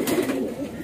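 A racing pigeon at a breeder's loft gives a brief, soft, low coo, close and alone.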